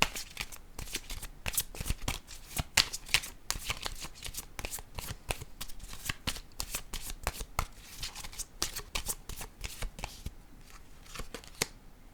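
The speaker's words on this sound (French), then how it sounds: "J'ai quasiment le goût de piger une autre carte rose." A deck of cards is shuffled over and over, with rapid riffling flutters and soft slaps repeating closely and steadily throughout, near and clear, with no voices.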